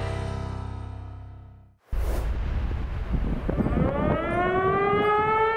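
Air raid civil defense siren in wartime Ukraine, one sustained wail that fades out, then after a brief gap a second siren rises and climbs in pitch, loud and alone with no talk.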